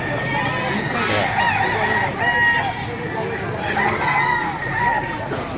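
Roosters crow repeatedly at a bustling poultry market in Baliuag, Bulacan, their calls rising over a dense crowd murmur and clucking fowl, with people talking throughout.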